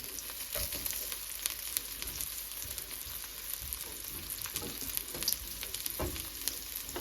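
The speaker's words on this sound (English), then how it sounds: "we fry this garlic and onion, go first in the pan" Garlic and onion frying in a pan, a soft continuous sizzle with small pops and occasional stirring taps, close but faint, with no speech.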